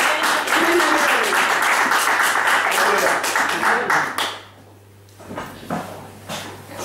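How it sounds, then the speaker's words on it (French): A church congregation breaks into loud, sustained applause and cheering after a Bible reading, with dense clapping for about four seconds before it drops off abruptly, leaving a few scattered claps and faint voices. "Est-ce qu'on peut acclamer cette parole?"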